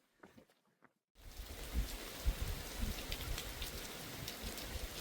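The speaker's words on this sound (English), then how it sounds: "Boy, I just beat the rain." Steady rain pours down on a loop hiking trail, starting abruptly after a second of near silence and then hissing continuously with scattered heavier drops, close and even.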